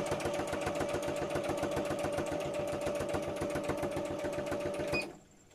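A sewing machine stitches the cover of a needle book with a rapid, even mechanical clatter for about five seconds before stopping; close and clear, with no talking.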